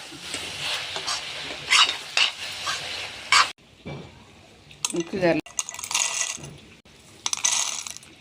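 Eggplant stirred with chili powder and coriander powder in a pan, with a metal spoon scraping and clinking in bursts and pauses, close up, while a voice speaks over parts of it.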